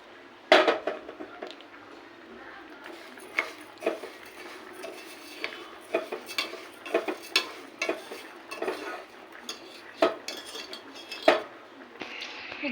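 A spoon scrapes and clinks in a pot again and again as sugar is stirred into caramel for payesh, sharp close taps at an uneven rhythm over a quiet background.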